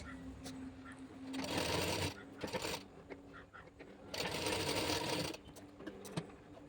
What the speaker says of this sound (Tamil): நான் வந்து தையல் போட்டுக்கிறேன்.